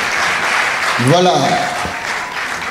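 A church congregation applauding, sustained crowd clapping throughout with a voice speaking briefly over it.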